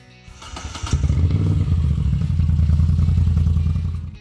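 A 1971–1974 Moto Guzzi V7 Sport motorcycle engine runs close and loud, a deep steady throb with a brief rev near the start before settling into a sustained rumbling idle that lasts to the end.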